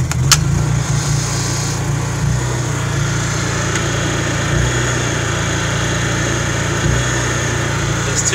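A Honda EU generator runs steadily in a continuous, loud mid-pitched engine drone with occasional faint knocks, no voices over it.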